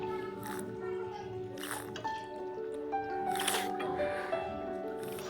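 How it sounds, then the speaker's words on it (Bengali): Cauliflower curry is stirred in a pan after a little ghee goes in, giving a few soft, wet, squelchy scrapes. A voice talks over it, with a steady tonal hum underneath. "অল্প পরিমাণে ঘি দিলাম, গিয়ে ভালো করে আমি নেড়ে ছেড়ে নিচ্ছি"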